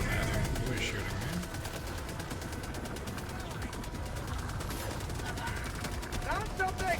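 Sustained rapid gunfire in the Helldivers 2 shooter game, dense overlapping bursts running steadily throughout with brief louder peaks near the end, with speech faintly present.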